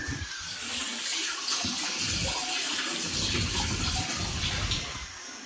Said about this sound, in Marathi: एक टाकी चालू आहे पाणी.